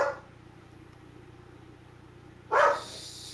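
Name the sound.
dog barking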